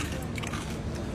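Crunchy fried pork cracklings being chewed close up, a steady dense crackling crunch running through the whole moment at even loudness, with no talking over it.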